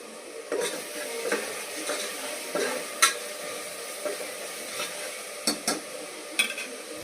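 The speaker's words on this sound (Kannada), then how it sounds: "ಚೆನ್ನಾಗಿ ಫ್ರೈ ಆಗ್ತಿದೆ" Marinated chicken for biryani fries in a pan, with a soft steady sizzle broken by irregular scraping and clinks as a spoon stirs it against the metal, close and with no talking.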